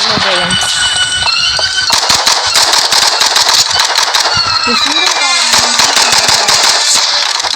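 Video game gunfire: rapid, continuous bursts of shots running loud and dense throughout, mixed with game music and other effects tones.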